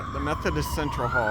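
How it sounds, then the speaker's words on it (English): An ambulance siren wails in a city street, fairly faint and distant, partly masked by people talking nearby. "That's the sound of an ambulance"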